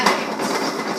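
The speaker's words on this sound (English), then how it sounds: "Just shaking it so all the kernels fall to the bottom." Popcorn kernels shaken in an 8-quart pot on a stove, a continuous dense rattling hiss of kernels sliding against metal, loud and close.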